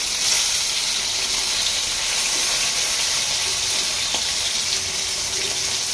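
Fish tails fry in hot mustard oil over a gas flame, a dense steady sizzle and crackle with a few sharper pops, close and continuous, no talking.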